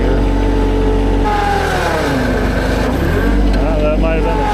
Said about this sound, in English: the tractor's having a hard time getting up and out of here